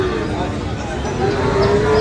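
A cow lets out a long, drawn-out moo over the steady din of a busy cattle market in Kaharol, Dinajpur, Bangladesh, with a low crowd murmur throughout.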